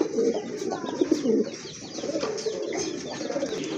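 Chocolate-coloured Mukhi pigeons cooing nearby, a run of soft repeated low coos with faint chirps, no talk.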